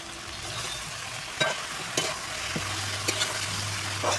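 Ridge gourd and potato pieces with turmeric sizzle in hot oil, a steady close frying hiss broken by several sharp scrapes and knocks of a spatula stirring the pan.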